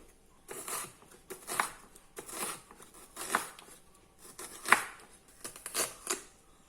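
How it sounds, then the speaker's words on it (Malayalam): A knife chops banana stem finely in short bursts, about six rapid clusters of crisp cuts separated by brief pauses, close up with no talking. "ഇതുകൂടെ നമ്മൾ പിണ്ടി അരിഞ്ഞ പോലെ ചെറുതായിട്ട് അരിയണം"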